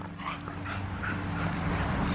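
A dog gives soft yips and whimpery barks close by over a low rumbling background, a few short bursts in quick succession.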